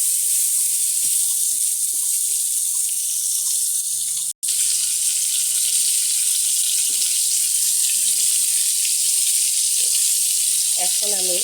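Drumsticks in mustard paste cook in a pan as water goes in, giving a loud continuous hissing sizzle with a brief break partway and a few faint clinks, close, with no speech.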